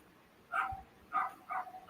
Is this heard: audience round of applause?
no